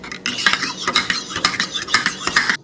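A spoon stirs coffee and cream in a cup, giving rapid close clinks and scraping swirls in a quick, steady rhythm that stops abruptly after a couple of seconds.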